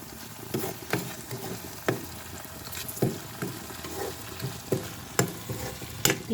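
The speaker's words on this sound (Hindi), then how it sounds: "ये मेरा प्याज भून गया है" Onions frying and being stirred in a pan, with soft sizzle under repeated scraping strokes and sharp spatula taps at irregular intervals, close up and with no voices.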